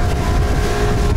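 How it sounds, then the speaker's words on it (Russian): Aboard a super-fast speedboat near Nha Trang, Vietnam, a loud, steady engine drone mixes with rushing water and wind buffeting the microphone, close and continuous with no talking. "Мы с Ларисой сели в супербыстрый катер"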